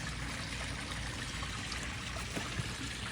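Water trickles steadily down a garden koi pond's bog waterfall, a soft, continuous hiss-like splash that is faint and even, with no voices.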